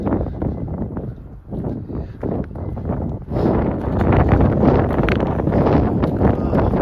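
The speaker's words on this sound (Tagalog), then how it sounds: "Tapos mahangin pa." Steady wind gusting across the microphone on a cold day just after snowfall, rumbling and rising louder in the second half, with rustling noise throughout.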